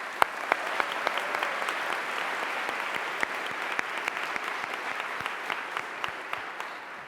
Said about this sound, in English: Let's have a big cheer for them.